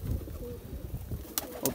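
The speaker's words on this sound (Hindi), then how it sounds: "काफ़ी अच्छे कबूतर हमारे बॉर्डरों पे मिलते हैं।" Pigeons from the Jammu border area coo softly in low, murmuring notes, faint and close, with a couple of brief sharp clicks or rustles near the end.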